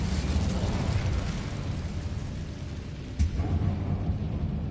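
Fire spell cast in Hogwarts Legacy: a sustained roaring, rumbling blast of flame fills the whole span, loud and dense, with a sharper burst near the end.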